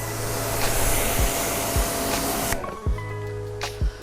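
Yard Force EW N15X electric pressure washer rinsing a vehicle: a steady, loud broadband spray hiss up close, which drops away sharply partway through, leaving quieter motor hum and a few low thumps.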